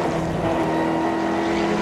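A Seat Leon Cup Racer with a six-speed sequential gearbox heads into the first corner, its engine a loud, steady droning roar heard close up with no talk.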